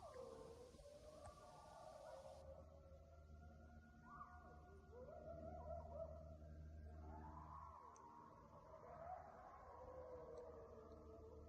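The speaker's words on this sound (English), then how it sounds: "We're hearing all these coyotes starting to howl" Coyotes howling at night, several drawn-out wavering calls overlapping in the distance, faint and alone against a quiet background.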